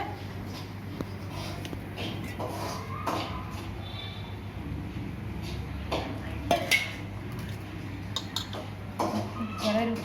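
Traditional rice flour porridge being stirred in a pot, with a spoon scraping and knocking against the metal in uneven bursts over a low, constant hum. There are a few sharper clinks near the end.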